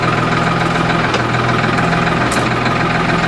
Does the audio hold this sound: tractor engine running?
yes